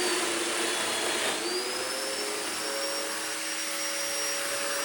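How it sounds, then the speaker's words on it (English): A router cuts mortises in wood for alternating dominoes and connectors, a steady loud motor whine running unbroken throughout, its pitch shifting slightly as the cut loads and eases. "Then I routed them."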